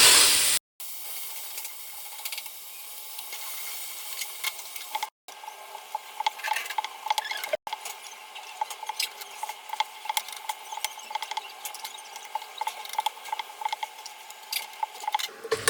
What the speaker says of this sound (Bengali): পটল আর আলু একসাথে ভেজে নিচ্ছি, ভেজে তুলে রাখবো এখন